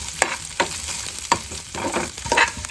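Cashews and raisins fry in a pan for a green gram dal payasam, hissing steadily up close while a spoon scrapes and stirs in several sharp strokes.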